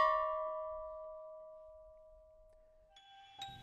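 A memorial bell at Split Rock Lighthouse, tolled for the lost crew of the Edmund Fitzgerald, hums on from an earlier stroke and fades softly before being struck again near the end, with a bright new ring.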